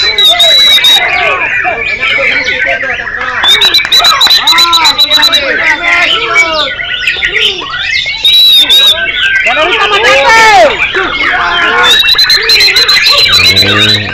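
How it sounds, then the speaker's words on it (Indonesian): Many songbirds chirp and trill in overlapping bursts at a singing competition, fairly loud and continuous, over a steady murmur of crowd chatter. "Ini pun suara burung."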